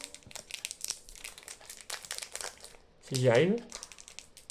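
A Pokémon booster pack's foil wrapper crinkles and tears in short, close bursts while a person speaks softly over it.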